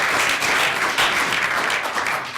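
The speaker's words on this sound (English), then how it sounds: "So let's give everyone a round of applause." An audience at a government policy meeting gives a round of applause. The dense, steady clapping sounds moderately near and lasts the whole two and a half seconds, fading slightly at the end.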